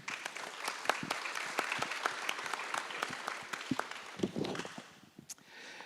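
An audience at an economics conference applauds the technical team, with scattered, uneven hand claps that keep a loose rhythm and thin out toward the end.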